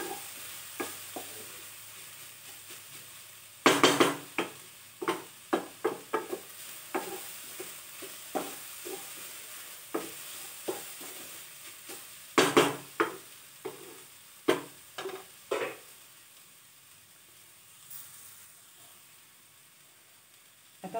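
Cassia tora leaves being stir-fried in a pan: intermittent spatula scrapes and knocks against the metal over a faint, low sizzle, with a couple of sharper, louder clanks, close by and with no talking.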